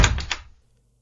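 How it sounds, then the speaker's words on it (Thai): A wardrobe door slams shut once as a ghost-story sound effect: a loud, close wooden thunk with a couple of quick rattling after-knocks, then fading into silence. "เสียงปิดประตูเสื้อผ้าดังลั่น"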